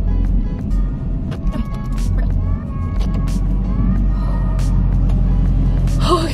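A pickup truck being driven in reverse, its engine rumbling steadily and close throughout, with brief creaks and a gasp-like sound over the low drone.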